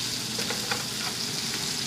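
Chicken pieces frying in a pan for a chicken and orzo dish, giving a steady, close sizzle with faint stirring crackles and no talk.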